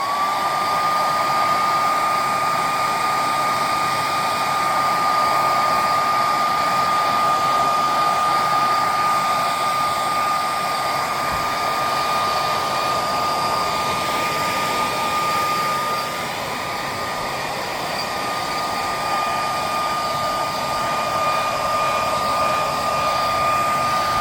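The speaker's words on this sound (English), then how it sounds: "So here's where a hairdryer comes in. So just gently applying heat to this, and it shrinks down to the right size." A handheld hair dryer blows steadily for the whole stretch, warming and shrinking plastic window insulation film over a single-glazed door window; a loud, continuous whir with a faint high whine and a slight dip near the end, no talk.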